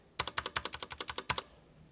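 Keystrokes on a Cherry MX 3.0S wireless RGB gaming keyboard, heard as a quick run of about twelve crisp, evenly spaced clicks up close, with no talking.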